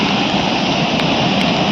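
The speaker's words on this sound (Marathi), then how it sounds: "इथे छोटे छोटे धबधबे आहेत," Small waterfalls near Lingmala waterfall in Mahabaleshwar, a loud, constant rushing roar of falling water with no break and no voices.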